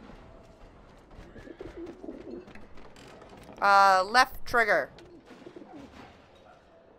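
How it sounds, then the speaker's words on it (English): Pigeons coo in the video game Alice Madness Returns, a short loud burst of cooing calls near the middle with faint birdsong and a spoken voice around it. "Can I play with the pigeons?"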